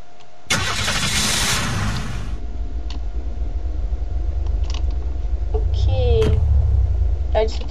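A car engine in Unturned cranks and catches with a loud burst, then settles into a steady low idle with a few clicks and thumps over it. A voice speaks briefly near the end.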